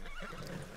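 A horse in the video game Red Dead Redemption lets out a brief, close whinny that fills most of the moment.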